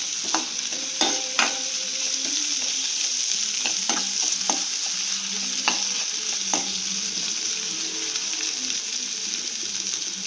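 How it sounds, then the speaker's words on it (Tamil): Green chillies fry in hot oil for a cabbage poriyal, a steady close sizzle with occasional stirring clinks and scrapes throughout, no talking. "ரெண்டு பச்சை மிளகாய் கட் பண்ணி வச்சுருக்கோம் அதையும் பொறிக்கிறோம்"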